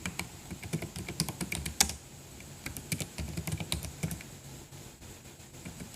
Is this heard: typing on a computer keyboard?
yes